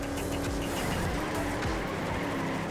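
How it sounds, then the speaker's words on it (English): Race car drifting in Trackmania Turbo, heard as a steady engine drone with tire squeal and skidding sweeps, loud and continuous throughout. "Now I'm drifting."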